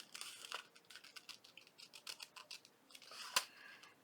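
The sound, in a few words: cutting out a picture of a woman with scissors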